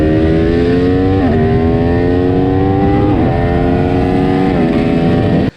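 An Aprilia RSV4 Factory motorcycle screams around the Cadwell Park track, loud and close, its engine note climbing and dropping through about three quick gear changes before cutting off abruptly.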